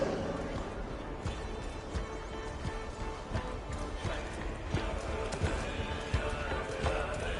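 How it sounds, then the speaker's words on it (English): Galloping horse hooves in the video game Assassin's Creed Valhalla pound in a steady, rapid rhythm throughout a Viking-era ride, moderately close, with voices talking over them. "Faster, Eivor! Ride like Sleipnir's hooves!"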